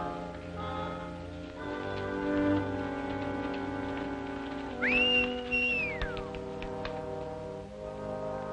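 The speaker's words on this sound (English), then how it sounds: "Stop whistling for that horse." A person whistles for a horse in an old western setting, one clear rising-and-falling whistled call standing out over a faint background of music and ambient noise.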